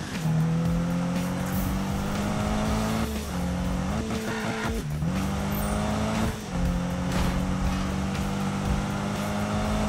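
Car racing through a sprint event in Need for Speed 2015, a loud sustained engine drone rising and falling through gear shifts, with tire squeals and brief skids along the way.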